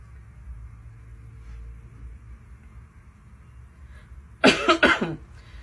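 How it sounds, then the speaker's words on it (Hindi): A man with a cold coughs in a short burst of three harsh, loud coughs near the end, close to the microphone after a quiet stretch of low room hum. "थोड़ी सर्दी खांसी हो रखी है भाई को।"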